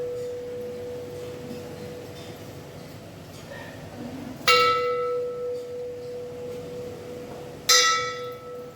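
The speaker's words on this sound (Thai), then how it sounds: "ก็จะมีระฆังให้สั่นนะครับสามครั้งนะครับ" At a Thai temple, a bell rings out in sharp metallic strikes over a steady tone and quiet ambience, with two clear rings standing out.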